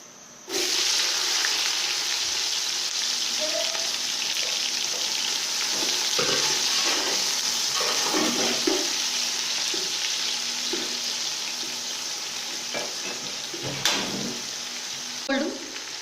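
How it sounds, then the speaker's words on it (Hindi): Onions frying in a pan for potato pulao, a steady broad sizzle holding throughout with occasional stirring clatter and small pops, close and continuous. "प्याज गोल्डन ब्राउन होने तक फ्राई करेंगे।"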